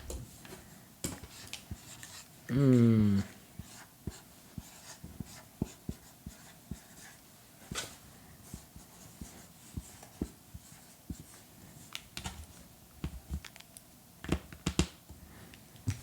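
A pen scratching out words on a card, short faint strokes spread across a quiet room, interrupted by a brief louder voiced sound near the start.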